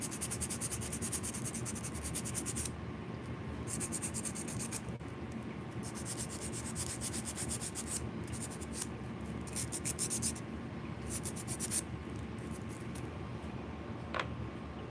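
Steady, continuous scratchy rubbing of sandpaper on tiny mosaic pieces, close up and even in rhythm, with no voices.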